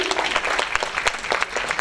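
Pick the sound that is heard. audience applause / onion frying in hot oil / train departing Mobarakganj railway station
audience applause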